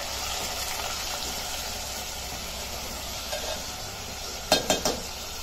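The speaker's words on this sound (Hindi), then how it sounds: "चावल को जरा मेथी दाना घी के साथ भूनेंगे" Rice roasting with fenugreek seeds in ghee in a pan, a steady soft sizzle with occasional stirring scrapes and a few sharp metallic clinks of a spoon near the end, no talking.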